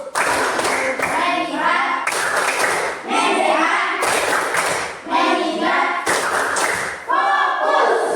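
Students in a classroom clap hands in rapid bursts, loud and close, with short pauses between rounds and some voices mixed in.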